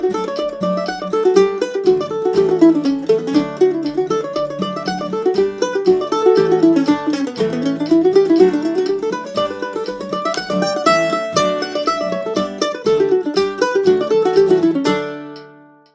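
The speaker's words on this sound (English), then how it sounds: "advanced mandolin lesson on how to play the Irish reel" A mandolin plays the Silver Spire Reel, a fast, lively Irish reel, alone, with bright picked notes in a steady driving rhythm, ending on a ringing final note.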